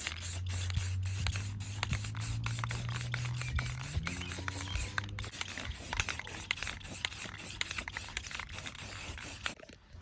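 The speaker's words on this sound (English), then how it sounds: "we're gonna spray the clear enamel on it and just make sure you coat everything" An aerosol can of clear enamel hisses in long continuous bursts of spray onto a 1998 Polaris Scrambler 400, with faint rubbing and rattling sounds alongside, close and fairly loud throughout.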